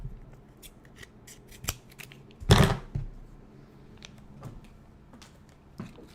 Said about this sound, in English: Okay, I'll use my scissors.